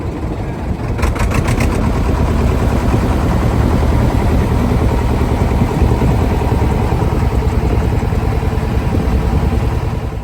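A small trawler boat's engine runs continuously, a loud, close, steady mechanical drone and clatter that holds without a break throughout.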